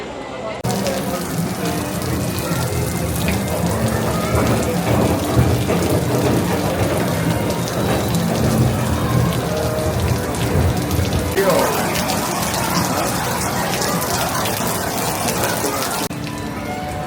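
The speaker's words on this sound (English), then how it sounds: "at last, the rain's beginning to let up" Heavy rain with thunder pours steadily and loudly throughout, with a dense hiss and patter and a low rumble underneath.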